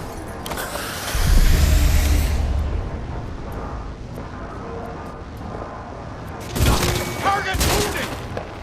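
Gunfire in the video game Cyberpunk 2077, loud bursts of automatic shots and booming impacts up close amid chaotic combat noise, with game voices shouting between the volleys.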